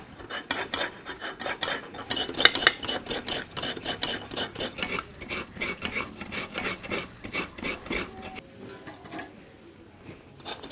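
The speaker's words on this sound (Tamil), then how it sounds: "2 தேங்காயும் நம்ம உடைச்சிட்டு இந்த மாதிரி திருவி எடுத்துக்கலாம்" Fresh coconut halves are grated by hand for sweet kolukattai filling, giving rapid rhythmic rasping scrapes, close and steady, thinning out toward the end.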